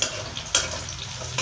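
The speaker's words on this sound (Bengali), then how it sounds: "পেঁয়াজটা লাল ভাজা হয়ে গেছে" Onions frying red in oil in a pan before greens are added, a steady close sizzle broken by a few sharp stirring scrapes.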